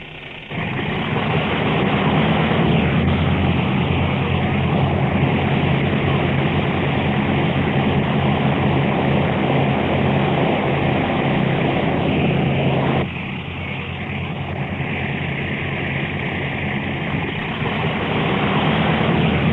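Propeller engines of an RCAF bomber run steadily and loud in the early morning, a constant drone before a low-level bombing run, easing slightly in level partway through.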